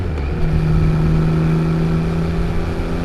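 A Yamaha XSR900 25th Anniversary motorcycle rides along a ridge-line road on a fine day, its mid-pitched engine holding a steady, continuous drone up close with no talk.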